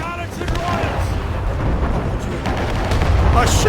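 Ship cannons boom in naval combat in Assassin's Creed Rogue, with repeated heavy blasts and rumbling over loud battle noise while voices shout orders.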